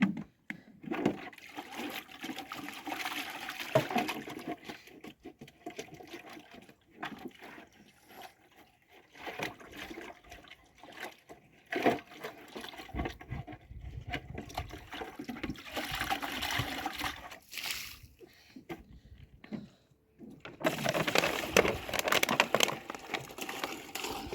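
Dirty water tipped out from a container and poured away in uneven splashing gushes, with quieter gaps between pours and a loud final spill near the end.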